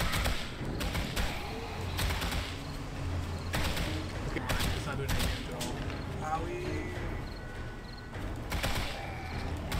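High-powered rounds fired in 7 Days to Die during a night horde battle crack out in irregular bursts of sharp shots over a dense, rumbling game din, with a voice talking in places.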